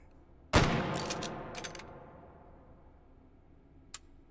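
A single sharp gunshot cracks from a rifle in the VR shooting game Hot Dogs, Horseshoes & Hand Grenades, followed by a few quick metallic clicks and a faint tick near the end, with no talking.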